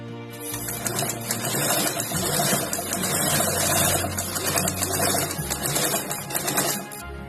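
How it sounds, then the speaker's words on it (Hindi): Electric sewing machine stitching fabric for a small ladies' party bag, a fast continuous mechanical whir and needle chatter running steadily for several seconds, close up, then stopping. "इस पे हम दाग सिलाई चला लेंगे"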